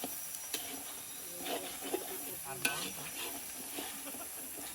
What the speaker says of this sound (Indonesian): Jangan terlalu banyak minyak gorengnya karena lemak dari ular tadi sudah banyak guys.